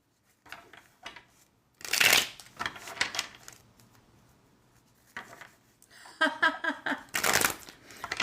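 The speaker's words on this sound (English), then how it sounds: "Got our cards nice, working, shuffling," Tarot cards shuffled by hand in quick bursts of riffling and soft slapping, with quieter shuffling between and close, crisp flutters near the start and end.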